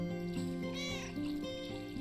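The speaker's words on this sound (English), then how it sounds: "Why did I just hear a cat?" A cat meows in the Story of Seasons: Grand Bazaar farming game, a short rising cry over steady looping background music.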